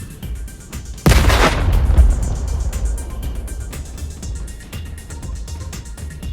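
Artillery shells land near a Russian tank convoy in the Pokrovsk area, one heavy boom bursting out and then rolling into a long, rumbling decay, with smaller distant thumps and crackles before and after.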